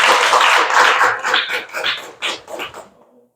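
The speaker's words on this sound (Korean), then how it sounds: "오늘 너무 좋은 강의를 해준 우리 호연 전문가님 다시 한번 큰 박수 부탁드리겠습니다" Lecture audience applauding a speaker, a burst of loud, dense clapping that thins into scattered claps and fades out near the end.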